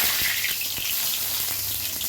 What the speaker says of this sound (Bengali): কড়াইতে তেল দিয়েছি জিরে ফোড়ন দিচ্ছি আর দিচ্ছি তেজপাতা